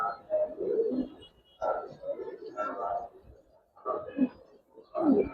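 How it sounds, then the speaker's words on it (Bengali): Giribaz pigeons at a pigeon farm coo close by in low, throaty bursts that repeat every second or so. "দেখেন কবুতর।"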